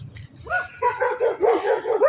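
Dogs at an animal shelter in Ümraniye bark and yip in rapid, overlapping bursts, close and fairly loud, with whimpery high-pitched calls mixed in.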